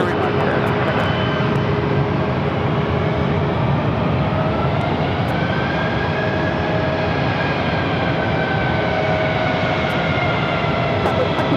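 JetBlue Airbus A321 airliner taxiing at Phoenix airport, a steady broad jet engine roar with a faint rising whine, continuous and fairly close, with no talking.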